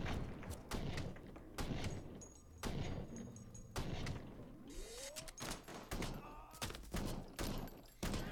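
Rapid gunfire from the video game RICO, dense bursts of sharp shots repeating throughout, with brief gaps between volleys and a rising whistling tone partway through.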